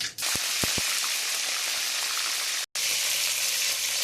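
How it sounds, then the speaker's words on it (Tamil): Fenugreek seeds frying in hot oil give a steady crackling sizzle, close and continuous, with a few soft knocks early on and a brief gap partway through. "நல்லா பொரியட்டும். வாசனை வரணும் வெந்தயம்."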